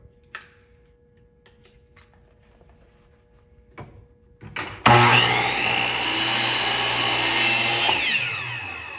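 A power saw cuts through picture frame wood: a few quiet handling clicks and taps give way to the saw roaring up loudly midway, then grinding through the cut in a sustained, close, dense whir.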